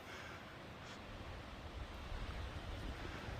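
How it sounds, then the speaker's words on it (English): Steady wind gusting across a snowy nature preserve trail, a faint, continuous broadband rush with some microphone buffeting and no voices. "Hear the wind blowing."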